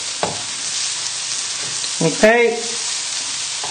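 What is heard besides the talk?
stirring mushroom risotto in the pan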